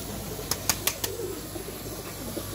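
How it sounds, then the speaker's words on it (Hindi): Lakha and Firozpuri pigeons flapping their wings, four quick sharp wing claps in close succession, then soft cooing and low rustling in a quiet, humming space. "देखें ठापे मार रहे हैं कबूतर माशाल्लाह, फिट कबूतर है।"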